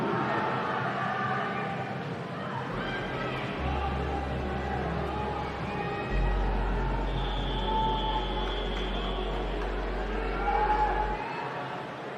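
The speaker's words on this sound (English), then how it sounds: "Big crowd support for the 13-year-old boys." An indoor crowd at the New Zealand age group swimming championships cheers a 13-year-old boys' race, a steady broad roar that swells slightly toward the end and stays well back in the room.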